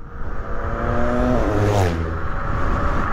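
A Zero 11X high-powered electric scooter on knobby tires pulls away hard on a road, its motor whine climbing steeply in pitch over a rushing, wind-buffeted rumble.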